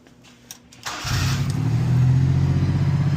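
A Honda Acty engine fitted with a new aftermarket exhaust muffler cranks after a few soft clicks and catches within a second, settling into a steady, close, low-pitched idle with a throaty exhaust note.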